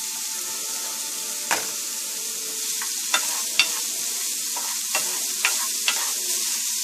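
Corn and black beans get stirred into a sizzling chicken empanada filling, a constant pan hiss with a series of sharp scraping spoon strokes spread irregularly across the clip.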